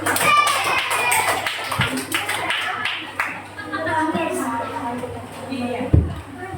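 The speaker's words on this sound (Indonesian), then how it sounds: "Tepuk tangan untuk kelompok Aska dulu" A classroom of students claps for a group, irregular scattered taps and claps with chatter mixed in, close and moderately loud, ending in a sharper burst.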